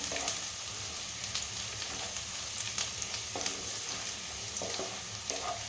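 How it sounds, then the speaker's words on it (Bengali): Food sizzles steadily in hot oil in a pan, with a continuous crackling hiss and occasional sharper pops and stirring scrapes, frying until browned as part of a home egg recipe. "ভেজে নিতে হবে লাল লাল করে"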